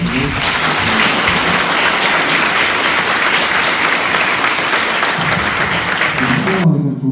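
A lecture audience at a special talk on AI and the humanities breaks into loud, sustained applause that fills the room steadily for about seven seconds before cutting off abruptly.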